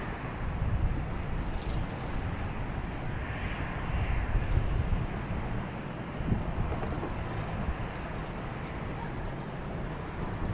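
Boeing 737 airliner at Boston Logan Airport, a broad steady jet engine roar with wind rumble, continuous and moderately distant throughout, with no talk.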